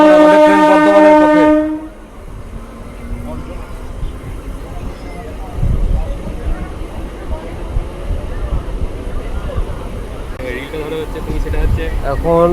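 A Katwa–Barddhaman local train rolls into Karjana station, with rumbling wheels and carriage noise under a sustained horn blast at the start, while a person talks nearby over the running train.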